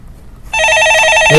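A telephone bell rings loudly during a Korean stock-market call-in broadcast, a bright steady electronic ring starting after a brief quiet moment and continuing to the end.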